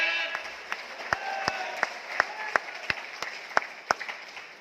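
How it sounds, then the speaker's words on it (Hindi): An audience at a corporate event applauds with steady, distinct claps in a regular rhythm while a voice talks over them. "जोरदार तालियां बजाइए आदरणीय टीसी छाबड़ा जी के लिए।"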